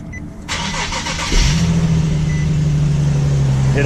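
A Nissan Z car engine cranks and starts up, then settles into a steady, close, low idling hum.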